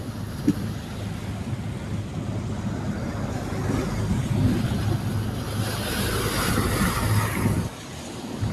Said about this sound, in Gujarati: અત્યારે થોડો પવન છે, વાતાવરણ થોડું થોડું ખરાબ થતું જ જાય.